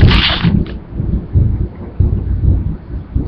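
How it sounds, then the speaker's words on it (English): Thunder rolls and rumbles at a moderate distance, starting with a sharper crack and then low uneven swells that carry on for a few seconds outdoors, with no one talking. "Sorry about the thunder."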